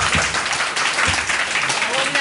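An audience claps for the next speaker at a Taipei meetup self-introduction session, a dense patter of applause with voices heard over it.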